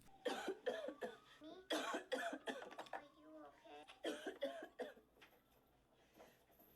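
A man coughs in a film scene, a run of harsh bursts spread across the clip with speech-like sounds and background noise between them.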